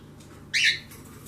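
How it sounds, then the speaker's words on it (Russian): A sparrow at a bird feeder gives one brief, sharp chirp close by, standing out against a quiet background. "Там воробей уже прилетел в кормушечке."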